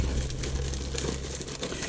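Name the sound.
plastic bag crinkling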